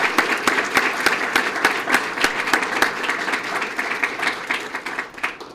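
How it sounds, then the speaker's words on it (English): A crowd at a police promotion ceremony in Sarasota gives another round of applause, many hands clapping together in a lively, continuous patter with distinct individual claps, easing off near the end. "let's give all of them another round of applause"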